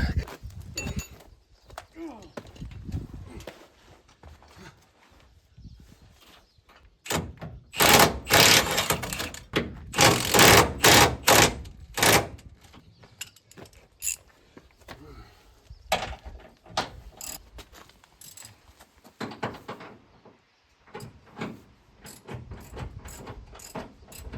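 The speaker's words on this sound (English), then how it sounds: "But I think we can go ahead and start torquing everything down." A wrench ratchets while torquing down bolts on a hitch bracket, giving bursts of quick metallic clicking with pauses between them, close by, and occasional voices in the background.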